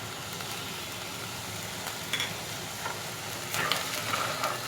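Ginger and garlic paste frying in a pan for black chana chaat, a steady soft sizzle with faint stirring scrapes, loudest near the end, with no talking.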